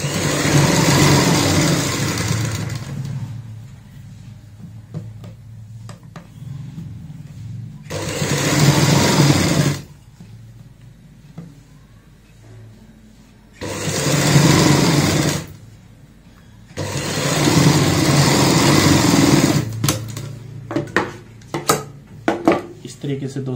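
A sewing machine stitches baby frock fabric, its motor whirring loudly in several bursts of a few seconds each, with quieter pauses between runs where a voice can be heard.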